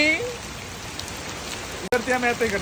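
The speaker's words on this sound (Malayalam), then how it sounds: "മഴ കൂടി കൂടി വരുന്നു" Heavy rain falls on a houseboat in Alappuzha, a continuous hiss of drops close by, with people talking over it at the start and again near the end.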